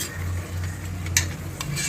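Grated tomato, mint and coriander fry in a pot for chicken biryani, giving a steady low sizzle. Two brief scraping clinks from a stirring spoon break through the hiss.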